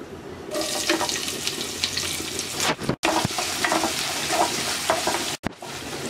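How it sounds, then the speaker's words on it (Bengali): Chopped onion frying in oil with nigella and cumin seeds, a continuous bright sizzle with stirring scrapes throughout, broken by two brief silent gaps. "পেঁয়াজটা হালকা ভেজে নেব।"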